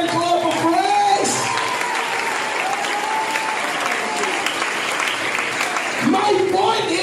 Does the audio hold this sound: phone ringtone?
no